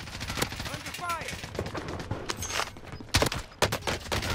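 Bursts of video game gunfire in Warzone with an M4A1 rifle, sharp cracks scattered through a busy firefight, the loudest shots clustered toward the end over steady game ambience.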